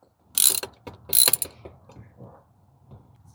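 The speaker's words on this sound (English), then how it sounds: "you can just use a wrench inside to get the glow plug out" A ratchet wrench clicks at close range while removing a glow plug from a diesel heater, two quick bursts of sharp ratcheting followed by softer, scattered clicks and metallic taps.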